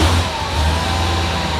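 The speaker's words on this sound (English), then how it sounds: "Started like a stock factory Hellcat" Supercharged 1000 hp Dodge Hellcat fitted with a Legmaker intake, its engine catching and settling into a loud, steady rumble with a brief rev surge at the start; no talking.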